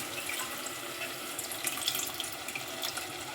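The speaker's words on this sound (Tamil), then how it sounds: "புளித்தண்ணி சேர்த்துக்கலாம்." Tamarind water pouring into a pot of bitter gourd curry, a steady trickling splash of liquid that runs without a break, fairly quiet and close, with no voices.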